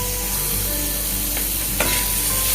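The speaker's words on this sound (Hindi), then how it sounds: "पनीर को हम इसको भी जैसे हमने अंडे को फ्राई किया था ऐसे अंडे जैसा इसको भी अच्छी तरीके से इसको फ्राई कर लेंगे" Paneer fries in a pan with a steady, dense sizzle and crackle, close and fairly loud, with a brief utensil knock near the end and no voices.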